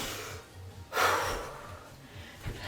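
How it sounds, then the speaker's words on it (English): Heavy, breathy panting from a person during a full-body Tabata workout. Close exhalations and one louder gasping huff rise and fall over a low background hum. "Can you hear me breathing in the camera?"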